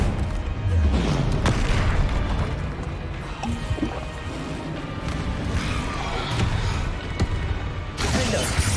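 A Confringo fire spell from Hogwarts Legacy explodes in repeated loud, booming blasts with crashing debris, forming a dense, continuous barrage of impacts.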